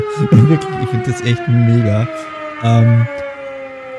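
A siren in the emergency-services video game Emergency 20 holds a steady, slowly falling wail throughout, while someone talks over it.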